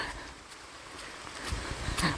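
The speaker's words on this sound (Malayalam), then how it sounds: "മഴ പെയ്തുകൊണ്ടിരിക്കുക." Steady rain falls on a forest path, a faint, even watery hiss with a few brief louder patches and no clear voices.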